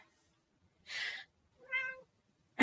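Indoor cat gives two short meows about half a second apart, the second more tonal and drawn out, fairly close but quiet against a silent room.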